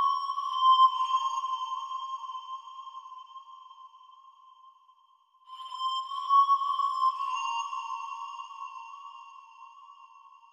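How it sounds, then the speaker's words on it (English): A bright sawtooth synth melody made in FL Studio, sustained tones with a buzzy edge, playing in two phrases with a short gap between them and no voices. "I am using saw for the second melody."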